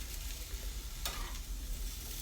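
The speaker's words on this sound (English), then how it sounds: "you can put them in a skillet like I am doing here" Krusteaz buttermilk pancakes sizzle softly in a skillet with a steady, faint frying hiss and a brief scrape as they are turned, no voices.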